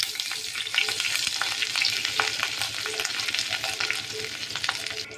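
Crushed pepper, cumin, curry leaves and garlic sizzle and crackle steadily in a hot pan, with small stirring clicks scattered through the dense, continuous frying noise.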